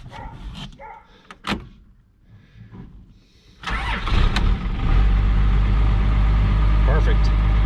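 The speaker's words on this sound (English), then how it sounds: "we're gonna go ahead and get in the truck, start it up, and just drive it in the shop" An '89 Dodge W250 pickup with a 12-valve Cummins diesel cranks over after some faint shuffling and a sharp clunk, catches and settles into a loud, steady clattering idle close by.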